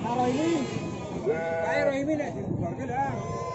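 A sheep with lambs at the Sumowono animal market bleats in wavering cries, close and clear, while people talk over it.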